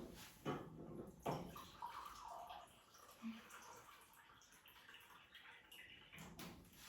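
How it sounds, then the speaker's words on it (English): Water is poured into a measuring cup for a tres leches cake, a soft splashing trickle set among kitchen knocks and clatter, with a couple of sharp bumps early on. "Okay, so I'm gonna pour some water."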